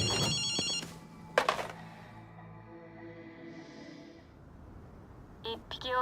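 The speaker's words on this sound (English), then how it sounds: "あの電話が鳴っているみたいだな。" A payphone rings inside the video game Ghostwire: Tokyo, with short electronic bursts at the start, again after a pause, and once more near the end, over a faint, quiet ambient backdrop.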